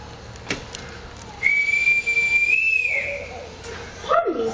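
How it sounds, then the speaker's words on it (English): A shrill whistle is blown in one long steady blast lasting about a second and a half, then a short trilled toot follows, in a quiet room with a brief voice between. "Oh, I forgot to return this whistle, Captain."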